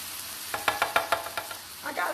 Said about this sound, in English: Let me stir this around a little bit.